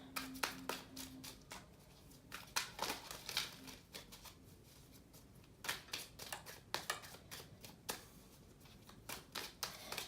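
Tarot cards shuffled by hand at close range, a quiet series of rapid riffling and slapping bursts in an uneven rhythm, with no talking.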